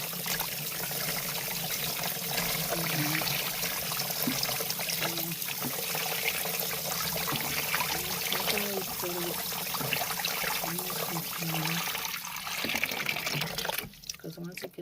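Water draining and trickling out of the roots of a potted plant being soaked in a container, a steady close splashing wash with a voice talking over it throughout.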